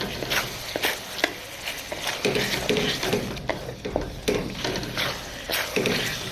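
Chana dal curry stirred in a pot at a Pakistani dhaba-style street food stall, a spoon scraping and sloshing through the thick mixture in repeated strokes over a steady sizzle, close and continuous.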